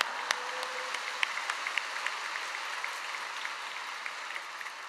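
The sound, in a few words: congregation applause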